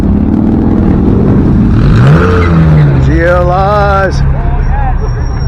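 Datsun car engine revving loudly at a street-racing car show, with rising and falling revs, tire squeal and crowd noise, while people talk and shout nearby.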